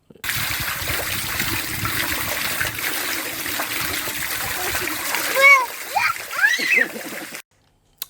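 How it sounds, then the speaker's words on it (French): Water spraying from a detached hose in a steady hissing splatter that cuts off abruptly near the end, with a voice and other voices chattering over it. "je vais vous montrer ce qui se passe quand le tuyau se barre"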